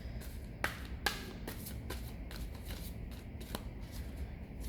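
Tarot cards are shuffled quietly nearby, with soft rustling and several crisp taps and slaps of the deck at irregular moments.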